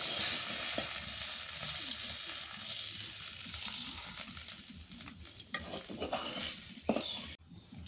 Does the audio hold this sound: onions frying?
yes